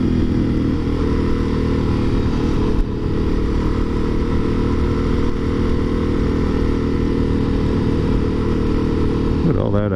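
Motorcycle out on a fast Sunday ride, its engine droning loud and steady for the whole stretch with wind noise over it and one brief shift near the end.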